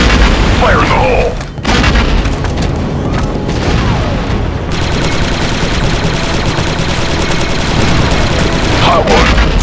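A grenade blast and gunfire from Star Wars: Republic Commando, with a heavy boom followed by sustained rapid weapon fire and a clattering barrage, loud and dense throughout, with brief voices mixed in.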